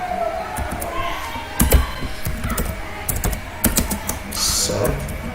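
Typing on a computer keyboard with an English layout while designing a logo in Photoshop: scattered key taps and a few louder clacks, irregular and close, under a low background hum.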